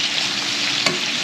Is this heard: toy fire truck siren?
no